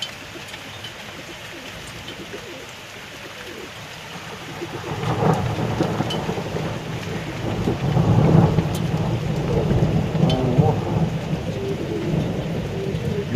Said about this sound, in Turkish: Az yağıyor ama sağanak yağışa döndü